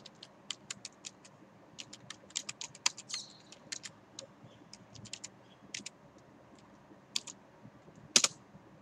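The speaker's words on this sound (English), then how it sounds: "So once you have opened your browser just type in Earth Explorer" Someone types on a computer keyboard, sharp clicky keystrokes in quick irregular bursts with short pauses, close and clear against a quiet background.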